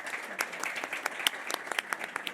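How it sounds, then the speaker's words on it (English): A short burst of applause from an audience, many hands clapping at once, lively and fairly close, with no voices. "let's give her a round of applause"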